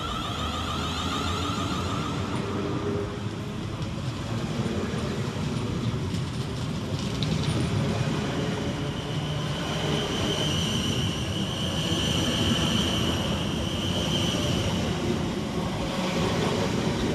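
Two coupled South Western Railway class 444 electric units pull out of Christchurch station, a steady, fairly loud rumble and hum that holds evenly throughout with no talk.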